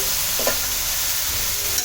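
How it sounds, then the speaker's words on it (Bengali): Cooled noodles and pasta poured into a hot wok with tomato, chilli and onion, producing a loud, even sizzle and hiss throughout, with a couple of faint knocks and no talk. "এবার ঠান্ডা করা নুডলস এবং পাস্তা কড়াইয়ের উপর ঢেলে দিব।"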